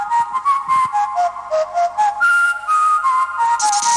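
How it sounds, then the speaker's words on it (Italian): A whistle sound effect played during an Italian radio show, a loud melodic tune of shifting pitched notes in a steady rhythm that fills the whole stretch with no talking. "Vai col fischio"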